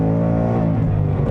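A 2020 Ford Mustang Bullitt muscle car, nearly 500 hp, revs and holds around 3,000 rpm, giving a loud, close, steady engine drone with a rich rumbling tone.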